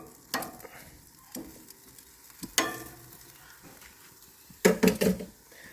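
Meat cooks in a pan as a quiet background sizzle, broken by a few sharp clatters and scrapes of a utensil against the pan, alone without talk.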